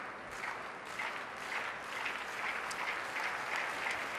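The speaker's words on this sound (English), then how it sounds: "hopefully you can hear rising applause in anticipation." A figure skating crowd at the ISU World Figure Skating Championships pairs free skate in Montréal applauds steadily throughout, a dense, continuous wash of clapping that swells slightly in anticipation.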